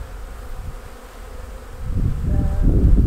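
A honeybee swarm buzzes near an apiary hive outdoors, a dense, continuous drone that grows louder and fuller toward the end, with no voices.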